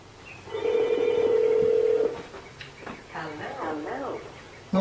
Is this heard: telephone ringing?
yes